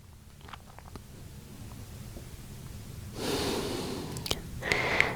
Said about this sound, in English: So we need that inhale to get relief on the exhale.